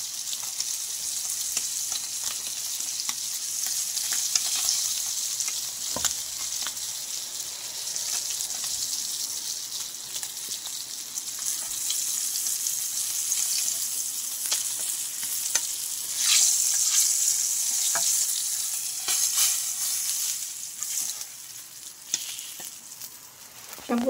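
Sardine fish fry in hot oil with a constant bright crackling sizzle, broken now and then by soft clinks and scrapes of stirring, with no talking.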